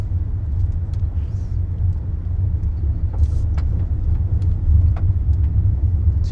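A 2026 Deepal E07 electric utility vehicle drives off-road over dirt, giving a steady low rumble of tires and suspension with scattered light ticks and crunches of gravel, heard from inside and with no talking.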